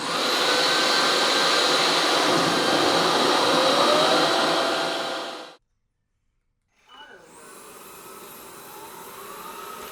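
A Roborock Dyad Pro wet vacuum dock runs its self-cleaning cycle with a loud, steady high-pitched whir, stops abruptly for about a second, then restarts with a quieter rising motor hum.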